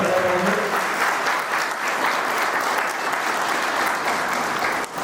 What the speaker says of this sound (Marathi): टाळ्या जोरदार मिळाल्या.